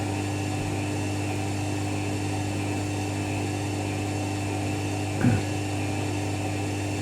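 An Indesit WIDL102 washer dryer spins in a short 400 RPM burst, giving a steady motor whine and drum hum with a single brief thump partway through.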